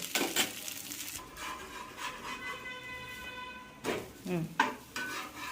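Dosa batter fries on a hot pan in a home kitchen, a soft steady sizzle that runs underneath occasional scraping and stirring noises, heard close and fairly quiet, with no talking.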